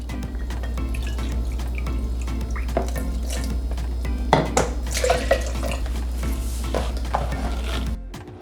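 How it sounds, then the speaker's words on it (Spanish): Half a cup of cold water poured into a blender holding lemon juice and tahini for a chickpea dip, a steady close trickle with drips and light clinks over a constant low motor-like hum, no talking. "Y voy a empezar con media taza de agua fría."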